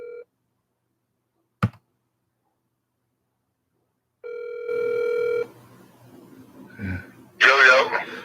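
Telephone tones on a phone call: a short steady beep near the start, a click, then a longer steady tonal ring, after which a voice comes on the line.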